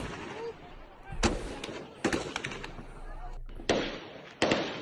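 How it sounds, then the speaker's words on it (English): Gunfire in a street during sectarian clashes: several sharp cracking shots, some in quick bursts, ring out at moderate distance over street noise, with someone speaking in between. "And now the guns have started."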